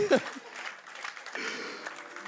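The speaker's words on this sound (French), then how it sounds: "Les sœurs, applaudissez pour vous-même" In a church service, the sisters give a faint, soft patter of applause that swells slightly after a brief voice at the start, staying quiet and thin throughout.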